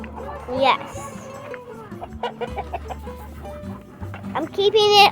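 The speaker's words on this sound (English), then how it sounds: "See the chicken?" Farm chickens and a rooster clucking and squawking in a coop, several birds calling irregularly up close while people talk alongside.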